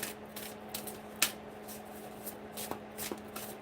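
A deck of oracle cards being shuffled, giving soft riffling and flicking sounds in short, irregular bursts, faint and close over a steady low background hum.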